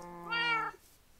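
A cat in a video game gives a single clear, rising-and-falling meow, short and fairly close, with a quiet background and no talking.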